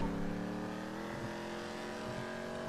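A car engine in GTA 5 drones steadily at a constant rev, a continuous mid-level motor hum with slight rise and fall, fairly close and without talk.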